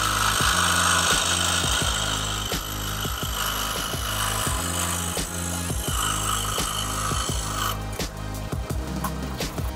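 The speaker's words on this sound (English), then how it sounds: "we're going to set it up on the scroll saw now for the fine interior cutting" A scroll saw cuts the interior of a metal backplate for an MSI GTX 1060 graphics card, a loud steady mechanical buzz with a fast rhythmic chatter, close and continuous.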